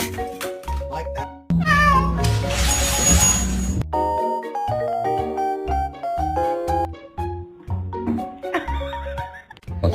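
A pet cat meowing repeatedly at close range, a series of loud, varied, drawn-out meows and wails in quick succession with no talking.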